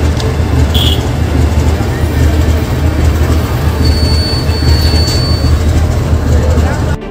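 A train rumbles steadily at Sangrur railway station, with a loud, constant low roar of rolling wagons, a brief high wheel squeal near the start and a thin metallic tone later on.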